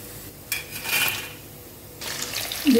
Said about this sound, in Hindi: अब हमने इसको फ्लेम को फुल किया है जिससे अच्छी तरह से फ्राई हो जाए